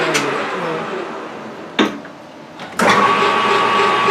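A metal lathe turning during a fly cutter build, being shifted down to a lower speed for more torque: a steady close mechanical whir, a sharp clunk as it changes over, a brief quieter lull, then louder running with a thin steady whine.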